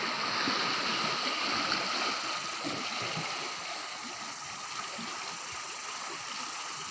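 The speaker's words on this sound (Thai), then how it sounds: "ตอนนี้เรามาอยู่ที่ ริมทะเล มาชม" Continuous wash of sea waves breaking on a rocky shore beneath cliffs in New Zealand, a steady broadband rush that eases slightly partway through, with no voices.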